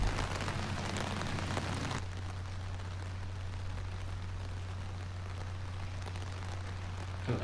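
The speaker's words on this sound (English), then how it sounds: "I think it's raining at this point" Steady rain falls on an outdoor disc golf course as a constant soft hiss of drops, with a low hum underneath and a brief louder patter at the start, with no voices.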